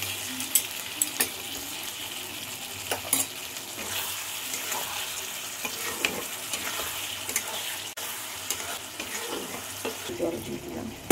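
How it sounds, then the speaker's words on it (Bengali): Warm water splashes into a pan of sizzling pointed gourd curry with spices, a running watery pour over a frying crackle with scattered clinks and stirring scrapes, close and moderately loud throughout. "জল দিয়ে দিলাম,"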